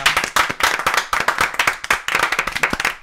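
Several people clap together in a lively burst of applause, with dense, uneven hand claps running continuously and no talking.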